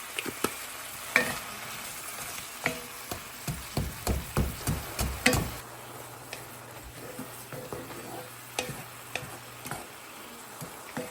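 Frozen vegetables seasoned with salt, black pepper and garlic powder cook in a pan with their liquid reducing, with a soft sizzle under a run of rhythmic spatula taps and scrapes that fade to sparse clicks.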